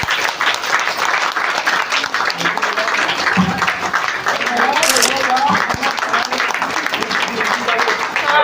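Audience applauding steadily for several seconds during a medal presentation, a dense patter of clapping with a few voices mixed in.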